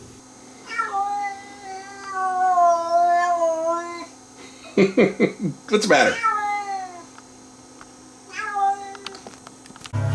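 A cat meows repeatedly in a quiet room beside a Technics RS677 cassette deck under repair, with drawn-out tonal cries, a short cluster of chirps and a later yowl, while a person speaks briefly.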